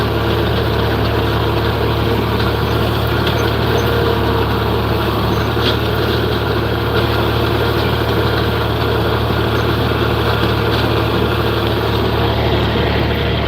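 A John Deere 4020 tractor idling on a small hay field, a loud, steady low diesel rumble that continues without a break, with no voices over it.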